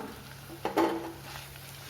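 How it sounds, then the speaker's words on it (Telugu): Chili powder frying in a pan for egg pulusu, a soft low sizzle with a brief stirring scrape near the middle, faint and steady, no talking. "ఈ కారంలో బాగా వేగాలి"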